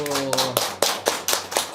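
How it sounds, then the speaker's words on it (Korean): A church congregation claps in praise to God at the close of the Lord's Prayer, with a steady series of distinct claps in a quick rhythm after a sustained sung or spoken tone fades at the start. "하나님께 영광의 박수"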